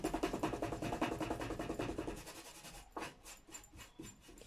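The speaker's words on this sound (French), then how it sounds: "je vais tout de suite nettoyer ma brosse." Paint brush being scrubbed clean after inking an art journal page, a rapid rhythmic series of soft bristly rubbing strokes, close and quiet, slowing into a few scattered scrapes.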